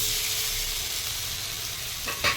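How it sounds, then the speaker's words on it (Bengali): Onion and green chili sizzle steadily in hot oil alongside half-fried eggplant, a continuous close frying hiss with a brief stir near the end. "এখন পেঁয়াজ আর কাঁচা লঙ্কা ছাড়লাম, যে পেঁয়াজগুলো এখনও কাঁচা কাঁচা রয়েছে। পেঁয়াজটা একটু ভাজা হোক"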